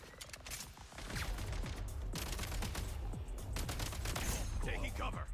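Rapid gunfire from a sniper mode in the video game Genshin Impact, with repeated shots and bursts layered over continuous game music and effects, sometimes under a voice.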